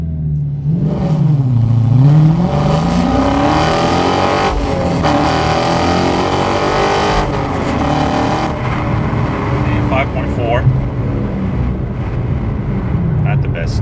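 Car fitted with new SRT headers and exhaust launches hard on a humid day, its engine note rising and dropping through gear changes in a loud, sustained drone heard from close by.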